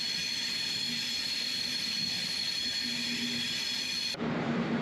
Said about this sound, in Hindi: आप सुन भी सकते हैं ट्रैक का एक साउंड है